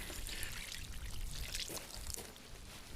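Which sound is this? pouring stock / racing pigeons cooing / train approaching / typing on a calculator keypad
pouring stock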